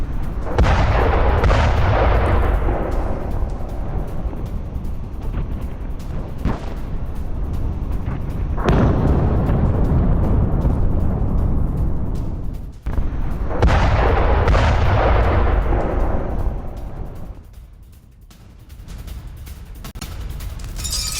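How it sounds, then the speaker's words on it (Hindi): Missile strike explosions over Kharkiv during a Russian attack, a series of heavy deep booms and rumbling blasts, several loud thuds rolling out with long decaying echoes over about twenty seconds. "खार्किव में सुने गए 18 धमाके।"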